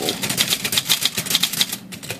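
A cheap little Royal portable typewriter, its mechanism freshly fitted with a rebuilt mainspring and new draw band, clacks through a quick run of keystrokes, steady and close, with the carriage ticking along.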